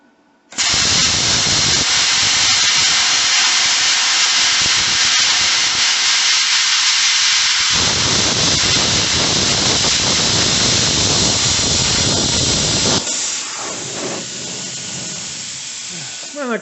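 CUT-50H plasma cutter slicing through metal, a loud, harsh continuous hiss that starts abruptly, shifts in tone partway through, then drops to a quieter hiss near the end.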